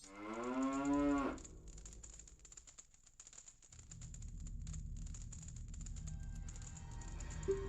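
Cows mooing on a farm, a long loud bellowing moo up close followed by quieter lowing and rustling, with a bird calling faintly in the background.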